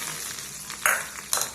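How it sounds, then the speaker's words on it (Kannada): Tempering spices (oggarane) crackle and sizzle in hot oil on a pan, a short, close sizzle that flares in two sharp bursts about half a second apart. "ಅದಕ್ಕೆ ಒಂದು ಒಗ್ಗರಣೆ ಹಾಕ್ಕೊಂಡೆ"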